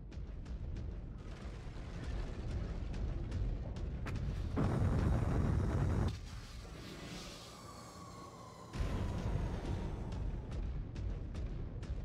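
Airstrike bombardment in the MechWarrior 5: Clans video game, a sustained heavy rumble of blasts with sharp cracks, a roaring surge midway, a brief quieter whistling lull, then loud rumbling resuming.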